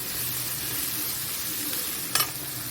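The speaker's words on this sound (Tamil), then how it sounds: "இப்போ இதில் வந்து வெங்காயமும் பச்சை மிளகாயும் சேர்க்கலாம். இது நல்லா பொன்னிறமாக வதங்கி வரட்டும்." Onions and green chillies sauté for mutton keema masala, a dense, even sizzle filling the pan, with one brief sharp scrape of a stirring utensil near the end.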